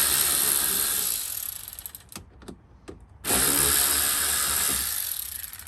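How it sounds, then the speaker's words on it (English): A ratchet or power driver undoing 8mm bolts at the back of a car panel: a loud, steady mechanical whirring that cuts out briefly with a few clicks, then surges back at full level, close up. "there's two 8mm in the back that you need to undo."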